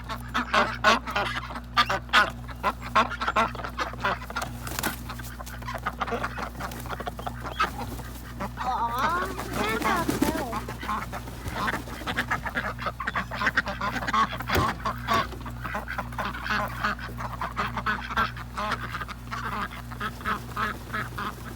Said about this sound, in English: It's so funny, these ducks know exactly where to go.